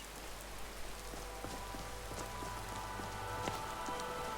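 Steady rain pattering in modded Skyrim, a dense even hiss of drops on surfaces, with light scattered clicks and a faint low hum under it, no voices.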